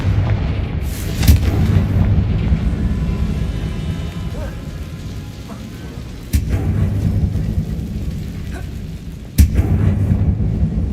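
Booming blasts from the Confringo fire spell in the Hogwarts Legacy video game, three loud sudden bursts spaced a few seconds apart over a steady low rumbling game background.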